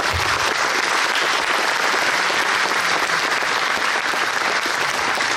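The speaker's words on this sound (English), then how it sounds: "So join me in a round of applause for our veterans and their families" Loud, dense applause at a veteran fair in a wartime museum, as a crowd honours veterans and their families with unbroken clapping at a steady level throughout.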